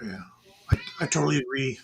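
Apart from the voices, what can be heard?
cat meowing in the background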